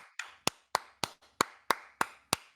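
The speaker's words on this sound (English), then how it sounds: "clapping over here." Slow, distinct handclaps from a small group near an esports broadcast desk after a Mario Kart grand final, roughly nine sharp claps spaced evenly, each crisp and close with no talk.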